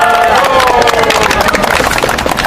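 Crowd applause and cheering at an outdoor political rally in Seoul, with dense, steady clapping mixed with voices, loud and continuous throughout.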